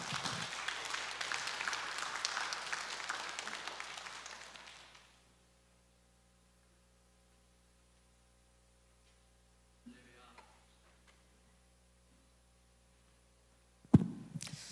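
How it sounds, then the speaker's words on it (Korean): Faint applause from a crowd at a forum rises and fades over several seconds, followed by a long stretch of quiet room tone and a few soft bumps. "박수로 환영하겠습니다."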